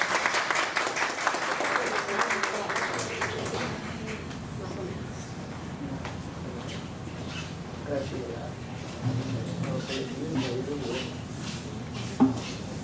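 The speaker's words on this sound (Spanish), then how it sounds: "Un aplauso." Church congregation applauding during a worship service, a broad wash of clapping that is strongest at first and then thins to scattered claps with murmuring voices, fairly faint in a large room.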